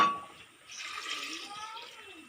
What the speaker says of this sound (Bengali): এক বাটি ডাল, পরিমাণ মতন জল দিচ্ছি